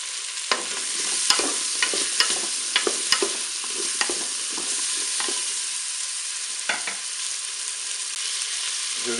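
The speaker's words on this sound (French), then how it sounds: "Et puis on va mettre les lanières de chorizo dans la cuve de notre cookéo." Chorizo strips and courgettes sizzle in the bowl of a Cookeo multicooker, a steady close frying hiss punctuated by irregular clicks and scrapes of a utensil stirring.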